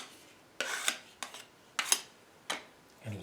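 A trowel scrapes tile adhesive off a toe kick in five short, close rasping strokes about half a second apart, quiet and alone.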